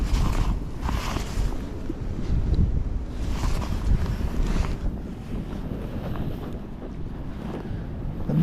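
Gusty wind buffets the microphone beside the River Thames in winter, a steady roaring rush with stronger surges, close and loud, with no voices.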